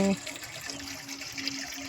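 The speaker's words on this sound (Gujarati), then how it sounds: "તો આપણે પાણી ભરીને લઈ જઈએ બરણીમાં" Water runs from a tap into a jar, a faint continuous trickle and splash heard alone throughout.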